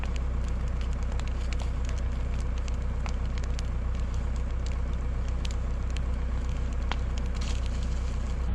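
A late November brush pile debris fire of treetops and leaves burns close by with a steady roaring hiss, broken by scattered sharp crackles and pops throughout.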